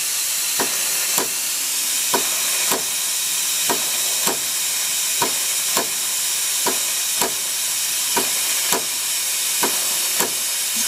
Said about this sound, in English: So if you stop the machine, there's of course more pressure on the steam pump.